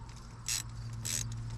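A ratchet clicks in two short bursts as it works to disconnect a part, quiet and close over a low background hum.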